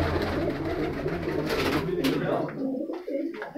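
Red pigeons coo close by in a loft, low throaty calls repeating over soft rustling, with someone talking at times over the birds.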